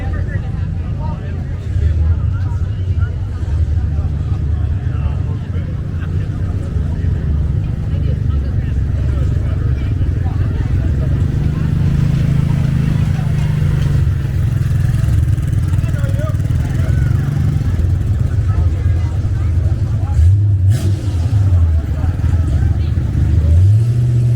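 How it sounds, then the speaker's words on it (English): Monster trucks rolling past a reviewing stand in a classic car parade at the Auburn Cord Duesenberg Festival, a continuous loud engine rumble with low revving swells over crowd ambience. "let's welcome these monster trucks into the reviewing stand"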